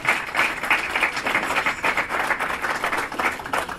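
An audience claps steadily to welcome a speaker at a talk, a moderate, even patter of many hands with no voices over it.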